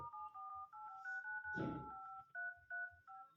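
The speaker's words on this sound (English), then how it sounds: "now when you will enter number on your dial pad friends, you can use the dial pad sound" Dial pad tones on an Oppo A78 5G phone sound as a steady series of short dual-pitch beeps, about a dozen in a row, faint and alone with one brief rustle partway through.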